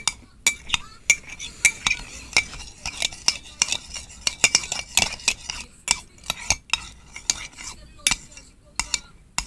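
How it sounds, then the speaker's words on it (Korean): A spoon clinks and scrapes against a bowl while breaking up and mixing pudding powder, making many quick, sharp taps in an irregular rhythm, close and clear, with no speech. "가루를 좀 숟가락으로 깨면서"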